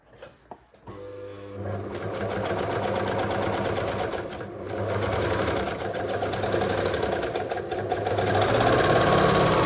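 A serger overlocks fabric for a draped top, starting with a short rev and then running continuously at a loud, close, steady hum that rises slightly toward the end. No one talks.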